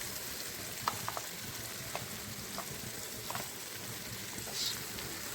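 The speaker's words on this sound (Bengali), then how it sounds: "সেটা এখন একটু ভালো করে কষবো" Spices with tomato, coriander and green chilli paste fry in a pan as a soft, steady sizzle, with a few faint clicks from stirring spread through it.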